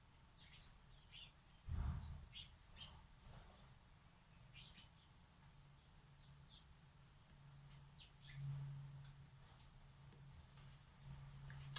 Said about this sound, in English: The bush is absolutely chocker with little birds.